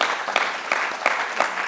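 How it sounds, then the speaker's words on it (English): An audience at a business conference claps for a panel: brief, steady, moderately loud indoor applause with many hands. "A round of applause for our panelists"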